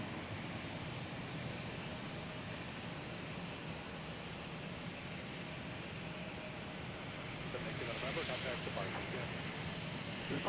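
Aeromexico jet airliner at Boston's Logan Airport, a steady broadband engine roar filling the whole stretch and swelling slightly near the end, with no talk.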